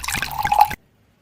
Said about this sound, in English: When we just pour wine